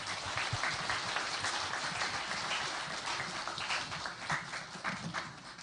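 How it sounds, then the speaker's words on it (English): A hall audience claps for spelling bee competitors at a national championship, a steady, even roar of many hands that fills the space at a modest, somewhat distant level. "Let's give them a big round of applause for a job well done in representing their region"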